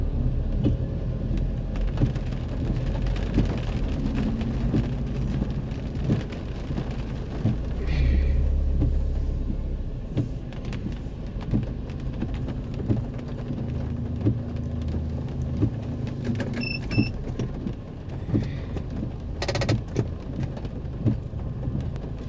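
A strong wind and rain storm in Baguio City roars as a loud, steady wash of noise, with gusty swells and what may be passing traffic mixed in throughout.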